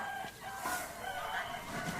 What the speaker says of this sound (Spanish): Oh, I see a chicken.